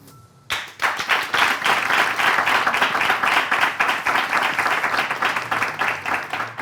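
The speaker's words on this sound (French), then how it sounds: "Donc, une princesse, ça s'applaudit." A studio audience at a French television game show applauds a contestant, erupting into loud, sustained clapping that carries on steadily to the end.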